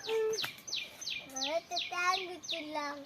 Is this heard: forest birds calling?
yes